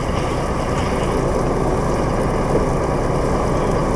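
A truck engine runs steadily in the game Euro Truck Simulator 2, a loud, constant low drone without pauses and without voices.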